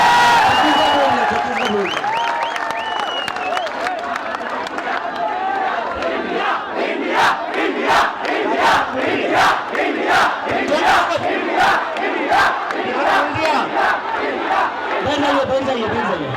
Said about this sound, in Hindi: यूपी वालों के लिए भी तालियां बजा दीजिए।